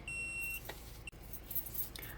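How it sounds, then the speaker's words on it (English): A Let's Resin AI resin mixer's timer sounds a single clear, high electronic beep of about half a second, followed by a short second chirp, over quiet room noise. "you hear that beep? That's the timer letting us know it's finished mixing."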